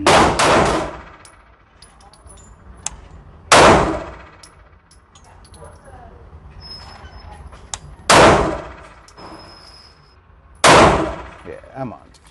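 A Canik Mete MC9 pistol loaded with Blazer 115 grain ammunition fires four loud, close shots spaced a few seconds apart, each with a ringing outdoor range echo.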